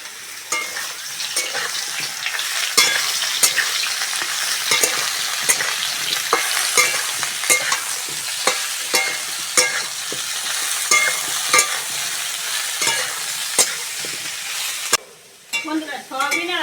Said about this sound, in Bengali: এবার ভালো করে ধুয়ে রাখা সয়াবিনটা ওর সঙ্গে দিয়ে ভেজে নেব।